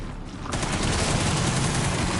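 Dense rapid gunfire erupts from the video game Resident Evil Requiem after a brief quiet moment, continuing as a loud sustained volley without speech.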